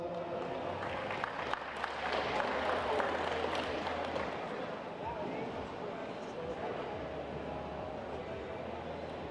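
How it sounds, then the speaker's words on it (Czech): Spectators at a boxing gala applaud in a big hall, a steady mid-level wash of clapping lasting through the clip with crowd murmur beneath. "Prosím, potlesk."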